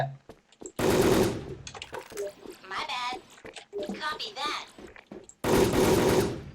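Bursts of automatic gunfire in the online shooter Wolfteam, loud and close, open and close the stretch, with excited talk between them.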